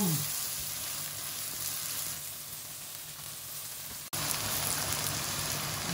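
Seasoning paste sizzles steadily in a frying pan with margarine while being sautéed for fried rice, a continuous close hiss broken by a brief drop and a sharp return of the frying sound.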